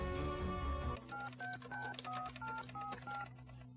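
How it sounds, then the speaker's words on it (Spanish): Telephone keypad dialing tones heard from a film: a rapid sequence of about eight short two-tone beeps in steady rhythm, following a brief ringing tone, faint and without speech. "Resulta que Mogliar escuchó los tonitos de cuando pulsas las teclas en el FBI"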